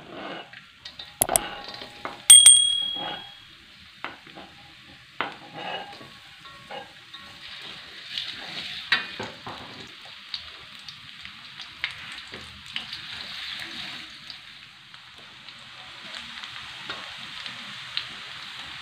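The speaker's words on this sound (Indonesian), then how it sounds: "Tumis bawang putihnya dulu" Garlic sautéing in a frying pan gives a soft, steady sizzle and hiss, opening with a few sharp metallic clinks of a utensil before settling into quiet continuous frying.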